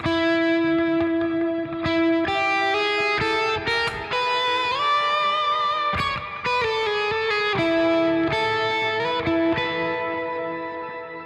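A bright sustained synth line from the Neural DSP Rabea plugin with shifting notes, wrapped in a shimmering, glassy icicles reverb tail that sparkles high above, loud and continuous.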